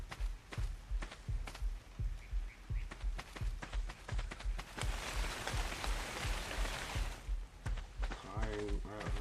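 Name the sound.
rain in the video game ARK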